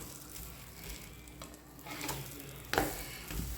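French toast frying in ghee in a pan, a steady soft sizzle with light stirring scrapes and one sharper clatter near the end, close and moderately quiet.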